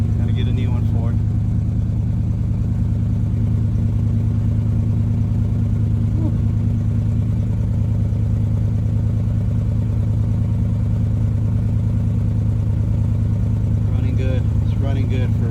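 A 1974 Chevrolet engine idling steadily after sitting still for years, a loud continuous low rumble with even mechanical clatter throughout, close up, with brief voices near the start and end.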